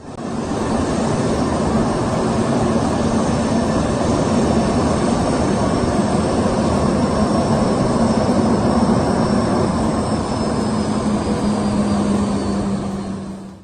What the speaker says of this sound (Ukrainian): Авіакомпанія нової пошти виконала перший рейс на власному літаку